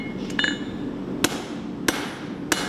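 A hammer forges a knife blade on an anvil, three sharp ringing strikes spaced evenly about every half second after a brief lighter tap, close and clear.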